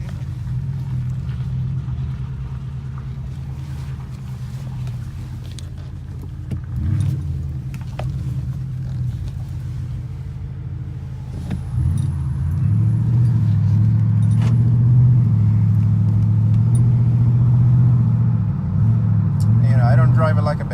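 A 2014 Ford Raptor pickup truck cruises on a road at low speed, its engine a steady low rumble that swells as it picks up pace midway, with cabin noise throughout.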